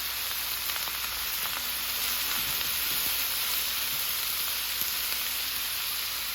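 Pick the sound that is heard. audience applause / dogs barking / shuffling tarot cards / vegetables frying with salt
vegetables frying with salt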